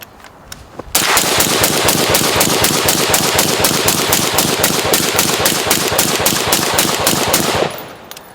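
A rifle fitted with an Energetic Armament Ferox suppressor fires a long, continuous rapid string through its fifth magazine, loud and close, with evenly spaced muffled reports running for about seven seconds before stopping.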